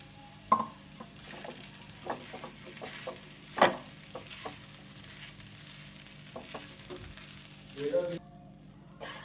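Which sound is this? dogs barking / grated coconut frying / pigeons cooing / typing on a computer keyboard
grated coconut frying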